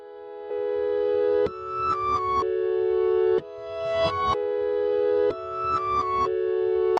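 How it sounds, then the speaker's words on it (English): Reversed FL Keys piano melody, pitched up and gated with Gross Beat, plays looping swelling phrases with choppy stuttered bursts and a distorted, echoing tone, alone without talk. "After pitching it up and applying the gross beat,"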